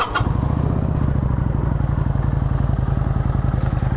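A 2007 Kawasaki Vulcan VN900C Custom motorcycle engine idles steadily at close range, with a low, even, lumpy pulse throughout and no talking over it.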